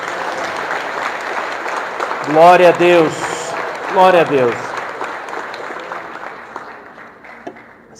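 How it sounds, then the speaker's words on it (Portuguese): Church congregation applauding during a worship service, a broad wash of clapping with a voice praising God rising over it twice. "Quem crê nisso pode dar uma salva de palmas para Jesus."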